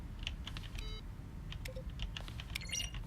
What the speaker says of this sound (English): A selection of the sounds used throughout the game when buttons are pressed. Each sound is a mix of keyboard stroke and a synthesized tone.